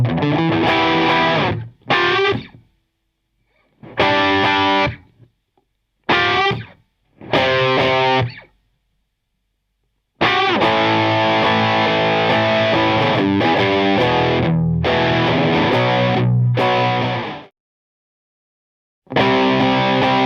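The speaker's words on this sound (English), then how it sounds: "So I'm going to put some distortion on and play it at full speed" Heavily distorted electric guitar plays bursts of chords and riffs, stopping and starting with short silences between, loud and close, no voices.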